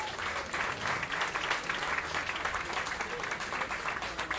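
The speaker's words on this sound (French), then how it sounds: "on peut encore les applaudir." A crowd applauds partners and guests at the Saga Café literary prize event, a sustained, even wash of clapping from many hands.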